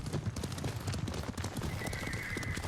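Horses in the video game Ghost of Tsushima, a rapid run of hoof clip-clops with a neigh rising over them partway through, moderately loud and with no one talking.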